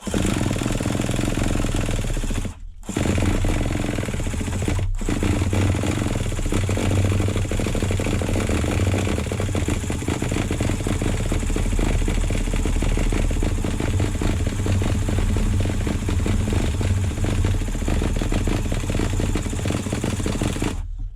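An HPI nitro RC truck engine, an MT2 in for rebuild, is cranked over and sputters as it tries to start. The rough, loud mechanical clatter runs almost continuously, with brief breaks, and no talking.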